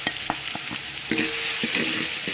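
Masala, turmeric, fenugreek and chili powder being stirred into golden fried onions for a Sri Lankan prawn biryani, with a steady sizzle under a series of quick spoon scrapes and knocks against the pan.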